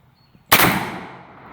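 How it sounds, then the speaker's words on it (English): A single loud, close gunshot from a Howdah double-barrel pistol fired at a target outdoors, a sharp crack followed by a decaying echo tail, with no talk. "I'm going to try and record this as I shoot"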